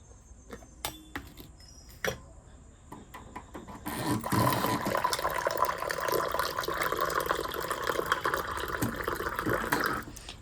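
Water is poured for plants at home: a few scattered drips and taps at first, then a steady, fairly quiet splashing pour that runs for about six seconds before stopping.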